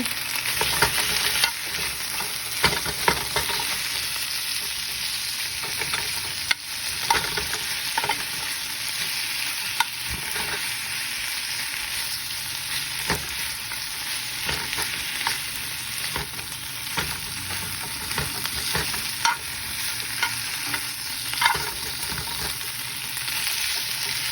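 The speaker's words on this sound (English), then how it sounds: "my baby spinach in the same pan that I took the shrimp from. And I'm going to just saute them a bit." Baby spinach sautéed in a pan still hot from cooking shrimp, a steady broad sizzle with scraping stir strokes and soft clicks of a utensil throughout, close and continuous with no talking.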